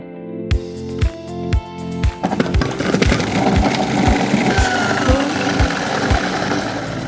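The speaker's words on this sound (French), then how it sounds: "On va retirer le cœur et on va les broyer au robot-coupe." Robot-Coupe food processor grinding blanched, cored orange halves: sharp rhythmic knocks first, then a loud churning motor roar with regular thumping beats as the fruit breaks down, close by.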